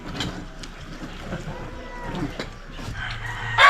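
A rooster crows somewhere nearby while people murmur in the background, with low engine-like noise underneath.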